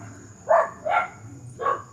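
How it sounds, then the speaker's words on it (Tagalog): Dogs barking at night in a village, three short, fairly loud barks spaced about half a second apart over a quiet background with a faint steady hum. "talaga maingay po yung aso kapag ganito, gabi, madilim. Konting kaluskus lang ay tumatahol po sila."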